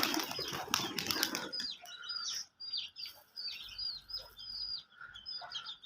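Pigeons flap their wings in a few sharp, close bursts at the start, followed by a run of chirps and tweets against a quiet background.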